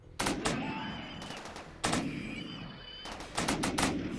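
Military turrets with 5.56 small machine guns in the video game Rimworld rattle off three bursts of rapid automatic gunfire, each a dense string of sharp cracks, with short gaps between bursts.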